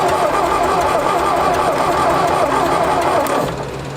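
An old carbureted tractor engine cranks and catches, then runs with a loud, steady, rough drone that eases slightly at the end.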